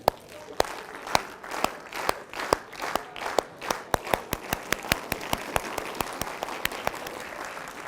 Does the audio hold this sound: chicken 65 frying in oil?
no